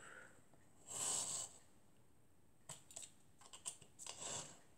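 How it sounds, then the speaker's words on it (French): A craft knife is drawn along a ruler to cut paper for a shaker pouch. Two close scratchy strokes are heard, one long and one broken into short scrapes, with no talking. "Et cutter, règle, on vient découper."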